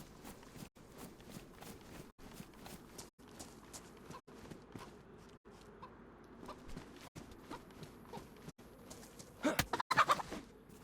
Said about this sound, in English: And I can hear a chicken somewhere.